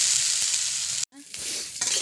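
Polao rice frying in a pan with onion and spice oil, a short close sizzle and stirring hiss, briefly cut by a gap in the middle before the frying resumes.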